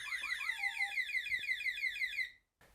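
A high-tech security alarm in a church crypt in Kent wails in rapid, repeating sweeping tones for over two seconds before stopping abruptly, sounding fairly distant with no talk over it.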